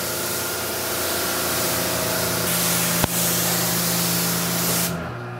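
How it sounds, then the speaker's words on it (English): A strong water spray rinses a C7 Corvette during a decontamination wash, giving a loud, continuous hissing blast that holds steady, then shifts partway through, with a brief sharp knock before the spray cuts off near the end. "But I really want to rinse it well now."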